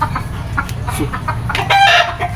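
A hen clucks repeatedly close by, a burst of sharp, bright clucks rising near the end over a steady low background rumble.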